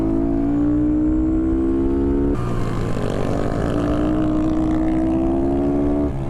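A Honda Grom motorcycle's small engine revs hard on a race track, a loud buzzing drone climbing in pitch, dropping sharply at a gearshift, then climbing again, with another bike close behind.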